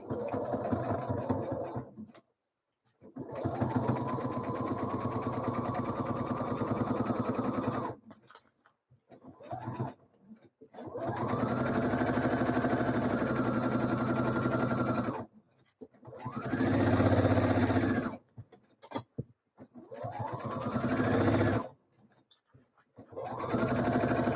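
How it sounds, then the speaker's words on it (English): A home sewing machine topstitching a Frida blouse, running in several loud sustained bursts of whirring stitching separated by short pauses, close up. "Let me get this top stitched."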